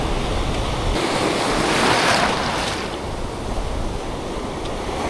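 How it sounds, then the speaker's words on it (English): Ocean waves wash onto a Queensland beach with a steady roar of surf. One wave swells louder in the first half and then eases back, and wind buffets the microphone. "There's not as many waves, so maybe that will work in our favor."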